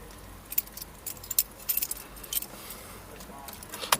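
Keys jangling and clinking in several quick, bright bursts, close by, as someone fishes for them beside a 1989 Dodge Dakota with a 5.9 engine swap, with a little background noise between the rattles.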